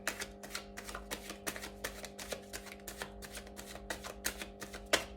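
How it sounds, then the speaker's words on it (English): Rapid, crisp riffling of a tarot deck being shuffled, a steady run of soft slaps and flutters under a faint constant hum, no talking. "We'll do one last shuffle. Divide the deck."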